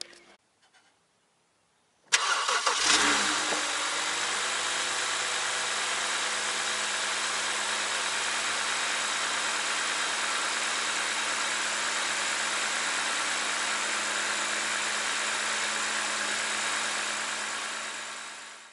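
A BMW E61 wagon's N52 engine cranks and catches after a quiet moment, then settles into a smooth, steady idle hum with a fresh serpentine belt and tensioner, continuing evenly and close by until it fades at the end.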